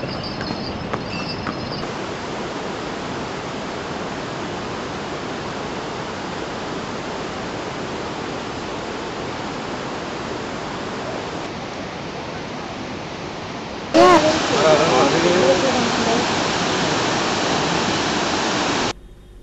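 Steady broadband rush of a Himalayan waterfall on the Gaurikund to Kedarnath track, continuous and fairly loud, growing brighter and stronger near the end before cutting off.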